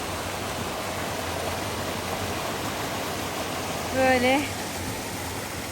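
Steady rushing water of a forest stream flows nearby, a constant broadband hiss, with a brief spoken word in Turkish near the end.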